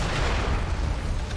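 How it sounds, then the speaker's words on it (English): A cannon fires in the video game Nioh: one loud, deep, booming blast that fills the whole moment and leaves a rumbling, noisy tail. "Actually, maybe I'll just use my cannon."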